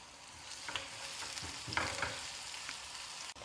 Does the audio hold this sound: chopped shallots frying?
yes